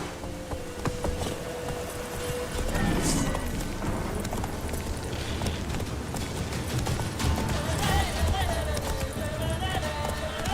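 Hooves of the horse Roach clatter in a rapid galloping rhythm in The Witcher 3, steady clip-clop under game music and ambient effects, with a voice speaking over it.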